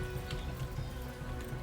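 Horse hooves clip-clopping at a run in the medieval game Kingdom Come Deliverance, steady rhythmic thuds under a busy game soundscape, moderately loud and close.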